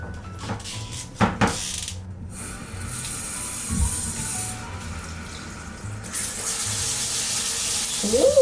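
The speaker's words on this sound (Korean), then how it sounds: "오, 물 아주 부드럽게 잘 나오네" Water runs through a filtered shower head, with a few knocks and handling clatters first, then a louder steady gushing spray near the end.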